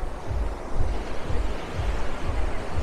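Surf at Playa Mamitas beach in Playa del Carmen, with low-tide waves rolling in as a steady rushing wash and soft thuds, plus wind buffeting the microphone.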